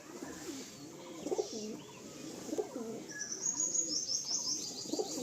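Malwai pigeons coo in a cage in a Kolkata seller's shop, low throaty coos repeating roughly every second, close by, with high chirps from other birds and faint background noise.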